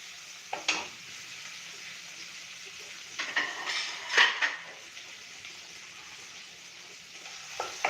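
A spoon stirs a tomato tempering in a pan over a low gas flame, with soft frying sizzle throughout and a few distinct clinks and scrapes of utensil against metal, close and moderately quiet, no talking.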